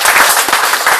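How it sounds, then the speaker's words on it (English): Audience applause at a live Q&A session for a Galadriel Commander card set, a dense, continuous wash of clapping with scattered sharper claps, loud and close, lasting the whole second with no talk. "Round of applause, everybody"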